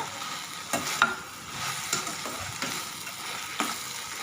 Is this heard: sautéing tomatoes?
yes